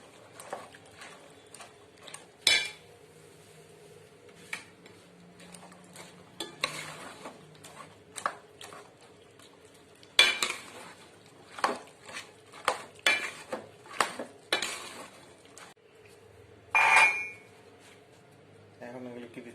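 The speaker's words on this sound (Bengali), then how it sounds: "মটর ডালের ভিতরে আলু সিদ্ধ দিয়ে দিলাম মিক্স করে" A spoon scrapes and clinks in a pot as boiled potato is mixed into boiled pea dal for chatpati, giving irregular metallic taps and soft stirring, with occasional talk in the background.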